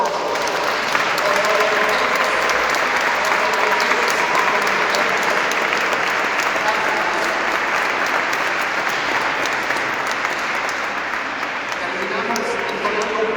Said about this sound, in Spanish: Otro fuerte aplauso para todos